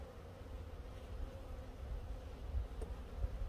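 Honeybees buzzing around a Warre hive during an inspection: a steady, low, droning hum of many bees close by, continuous throughout with small swells in loudness and no voices.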